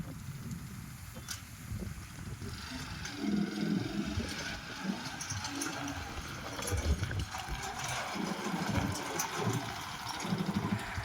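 A modified motorcycle fitted with a reverse-gear system idles close by, its low engine chugging steady and rough throughout, with a little background noise and no clear talk.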